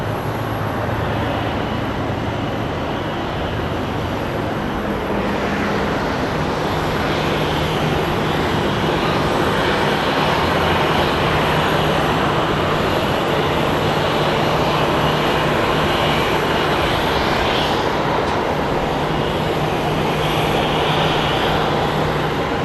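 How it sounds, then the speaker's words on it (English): A McDonnell Douglas MD-11 jet airliner at an airport produces a loud, continuous engine roar that holds steady for over twenty seconds, broad and rushing, with no talking. "This is my favorite airplane, the MD-11."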